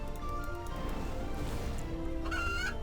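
Chickens in the video game RuneScape 3 cluck and squawk in short, clear calls over a continuous low game backdrop, with a brighter cry near the end.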